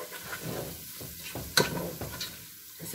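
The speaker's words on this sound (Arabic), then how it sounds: "هنزل بالكبد والقوانص بالشكل ده، هبدا اقلب فيهم لغايه ما لونهم" Duck liver and gizzards fry with onions in a pan as they are stirred, making a steady close sizzle broken by scraping stir strokes and one sharp spatter, with no talking.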